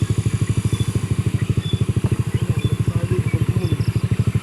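A motorcycle engine pulses loudly and steadily at close range, a fast low thumping rhythm throughout, with faint voices and outdoor background underneath.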